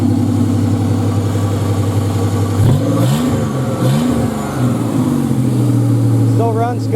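A 1997 Buick Century derby car's engine runs in gear, a loud, steady droning rumble with a couple of brief revving swells in the middle, close up and continuous, while a voice talks over it.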